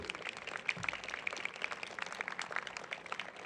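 A convocation audience claps for newly named students, a faint, distant patter of scattered applause in a large hall, with light whistles or cheers mixed in.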